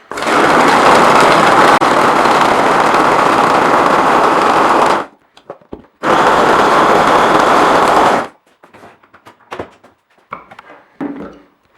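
Vitek VT 7019 food chopper running on its first speed, a loud steady motor whir lasting about five seconds, stopping briefly, then running again for two more seconds before clicks and rattles.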